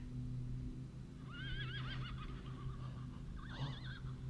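Horses neigh outdoors along a trail. Two wavering whinnies, one at about a second and a half and another near the end, rise over a low steady hum and sound moderately distant and fairly faint.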